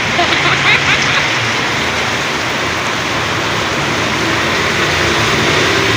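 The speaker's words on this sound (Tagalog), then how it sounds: "Bigla-biglang ulan." Dense, heavy sudden rain roars continuously, a steady wash of noise with faint voices barely audible beneath it.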